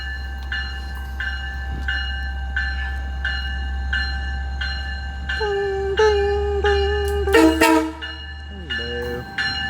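An Oyster Bay Line train sounds its horn near a station crossing while the crossing bell rings in steady repeated strokes over a loud low rumble. The horn blasts come close together near the end.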